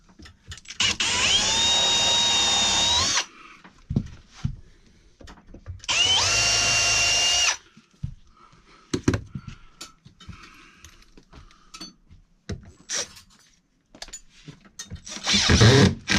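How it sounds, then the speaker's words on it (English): Power drill pre-drilling a hole while a broken refrigerator is replaced: two loud, close bursts of whining motor that rise in pitch, each lasting a couple of seconds, separated by quiet clicks and handling noises, with another short burst at the end. "I can pre-drill it."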